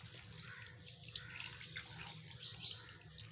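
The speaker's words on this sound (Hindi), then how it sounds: "तो अब हम पानी डाल देंगे इसमें" Steady water pours and splashes continuously into a bowl of chicken, a close, even rush with no talking.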